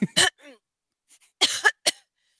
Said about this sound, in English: Is that a regular cough?